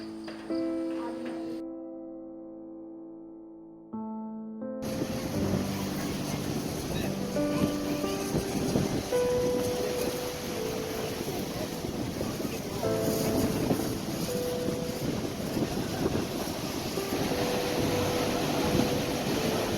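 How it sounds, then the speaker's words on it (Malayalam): Strong ocean waves roll in at Veli beach in Thiruvananthapuram, Kerala, making a steady, loud surf roar mixed with wind buffeting the microphone. A brief tonal, music-like passage plays at the start. "നമ്മൾ കടലിലെത്തിയിരിക്കുകയാണ്. ശക്തമായ തിരമാലകളും"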